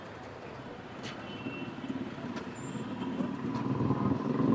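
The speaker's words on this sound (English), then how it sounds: "The traffic is slowly building up until it reaches a state of chaos." Heavy street traffic of trucks and cars on Maratha Ditch Lane, a dense, continuous roadway rumble that slowly grows louder, with faint higher tones and brief hisses scattered over the steady engine noise.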